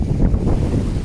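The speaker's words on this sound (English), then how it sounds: "It's windy, but it's fine." Steady low rumbling wind buffets the microphone on Avşa Island by the sea, a continuous blustery roar with no other sounds.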